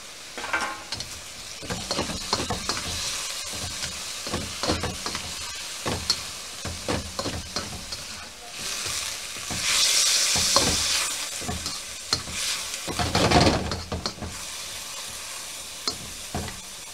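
Chicken fried rice is stir-fried in a wok at home, with steady sizzling and frying hiss, repeated scraping stirs of the spatula against the pan, and a louder burst of sizzle midway.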